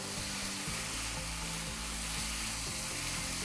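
Ground turkey browning in a pan, a dense continuous sizzle and crackle at close range, steady in loudness with a low underlying hum and no talk.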